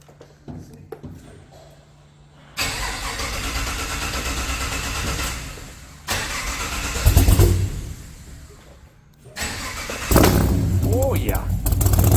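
Chevrolet Blazer V8 engine, apparently with a cam, cranking and catching, then revving in several loud bursts with short idle dips between, a voice briefly heard.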